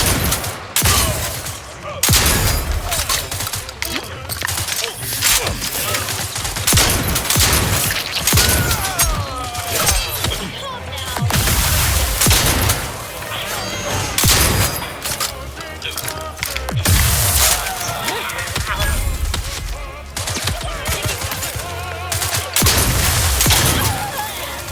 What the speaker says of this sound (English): Shots hostile here.